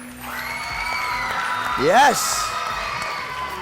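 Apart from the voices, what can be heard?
studio audience applause and cheering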